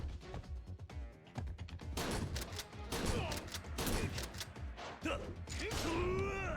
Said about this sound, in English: I like how I shot him with the shotgun and it didn't do anything